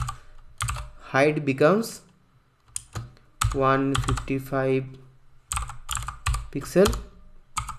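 Computer keyboard keys clatter in quick bursts while CSS code for an image hover effect is typed, with clicks running under a steady voice talking throughout.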